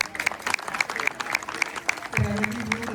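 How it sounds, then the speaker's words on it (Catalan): An audience at a traditional Valencian folk dance gathering applauds with regular, rhythmic claps, close and fairly loud, while a voice speaks toward the end. "Un aplaudiment per a ells, per favor."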